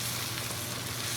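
Brief steady sizzling hiss from a pan of beef brisket being stirred and fried, dense and continuous without distinct strokes, close and moderately loud.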